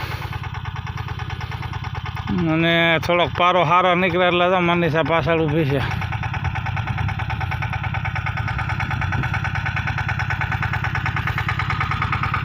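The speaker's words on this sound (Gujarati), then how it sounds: "તો ટ્રેક્ટર આવી રહ્યું છે" A tractor engine idles and chugs steadily in a peanut field, a rhythmic low rumble throughout, while a person speaks over it.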